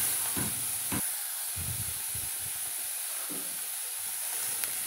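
Onion frying in a little oil for a Marathi shev bhaji gives a faint, steady hiss, punctuated by a few brief low stirring thumps and scrapes at close range.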